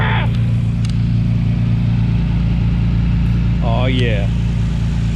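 A Nissan RB26 engine swapped into a 300ZX idles loudly and steadily up close, a deep continuous rumble throughout, while someone speaks briefly over it.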